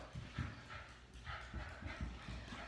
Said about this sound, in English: Dog screaming.